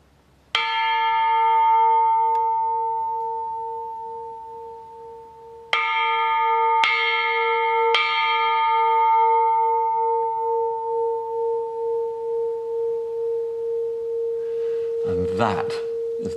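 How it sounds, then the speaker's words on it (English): An old church bell, rung for the first time in 25 years: one loud struck tone with a long humming decay, then three more strikes in quick succession, each ringing on and slowly pulsing as it fades, with a brief rustle near the end. "I'm going to ring the bell for the first time in 25 years."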